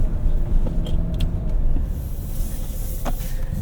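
Steady low road rumble from a 2025 Toyota 4Runner TRD Off Road Premium driving off-road, heard from inside the cabin, with brief hissy rattles over the continuous drone.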